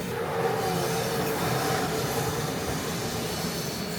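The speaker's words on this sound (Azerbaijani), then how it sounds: "Hal-hazırda Qatarda yolculuğumuz devam ediyor." Train running on rails, heard from inside a carriage on a long rail journey from Montenegro to Serbia: a steady, dense rumble and rolling hiss that holds constant throughout, without talk.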